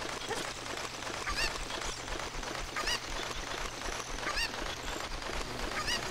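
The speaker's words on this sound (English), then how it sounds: "Arise, chicken." Cucco chicken clucks from The Legend of Zelda: Ocarina of Time, repeated squawking calls about every one and a half seconds over a steady game soundscape with a low hum.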